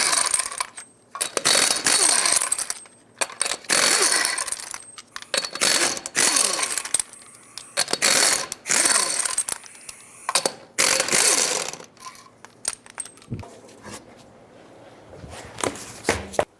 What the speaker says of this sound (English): 21mm socket, remove all 6 of your lug nuts.